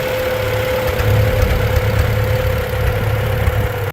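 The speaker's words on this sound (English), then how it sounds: "One twist of the ignition, and the M's throaty rumble would fill a barnyard" A Farmall M tractor's 4-cylinder gas engine runs loud and close, a steady throaty rumble with a fixed hum holding for about four seconds without pause or speech.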